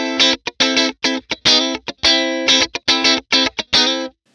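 A funk guitar riff with the compressor switched off, played through a Blackstar St James amp: choppy, rhythmic staccato strums with sharp gaps between hits, fairly bright and close, no talking.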